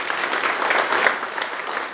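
An audience at an anniversary Q&A event applauds, dense and steady clapping of moderate loudness filling the whole moment without talk.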